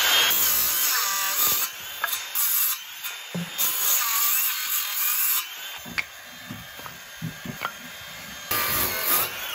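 A power saw whines in repeated bursts as it cuts through wood, engine pitch dropping and surging between cuts, loud and close.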